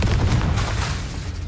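The Confringo fire spell blasting in the video game Hogwarts Legacy, a loud booming burst with rumbling low end and crackling debris, close and dense throughout with another impact at the close.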